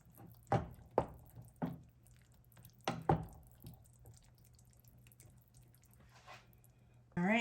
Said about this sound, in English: So I'm going to go ahead and stir those in.